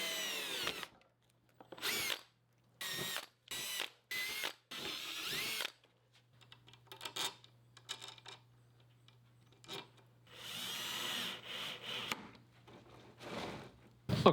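Power drill driving wood screws into wooden blocks for a router flattening jig, several short whirring bursts with pauses between, followed by a longer grinding run and soft handling noises.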